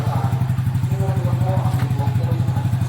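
A stock Yamaha Sniper 155 engine fitted with a UMA racing exhaust pipe runs close and loud, with a fast, even, throbbing exhaust pulse throughout.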